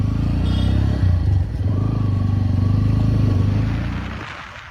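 A motorcycle engine hums steadily while being ridden, close and loud, with rumbling low tones and road clatter for a few seconds before it fades slightly at the end.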